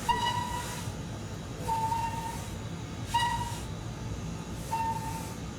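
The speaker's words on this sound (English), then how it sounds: "Then if you press B, it gives you alternate whistle sounds as well." An LNWR G2 steam locomotive whistle in a train simulator game sounds four short, evenly spaced blasts over a steady background hiss and rumble.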